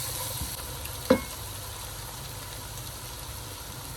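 Chilli, turmeric, cumin and coriander powder stirred in a frying pan, a steady low sizzle with one brief scrape of the spoon near the middle, fairly quiet and close, no talking.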